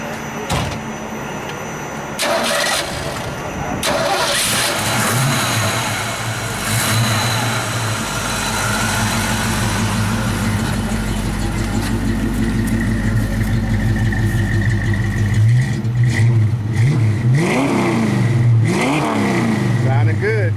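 A 1999 Ford Mustang GT converted to a 5.4 engine with Flowmaster exhaust revs repeatedly at a car meet, several rising and falling throttle blips over a steady rumble, with people talking nearby.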